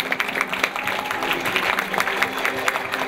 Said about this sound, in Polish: Brawa tutaj powinny.